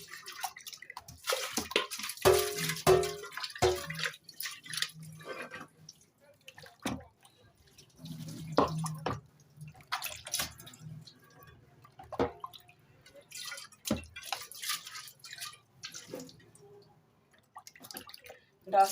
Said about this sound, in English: So let us rinse our saucepan.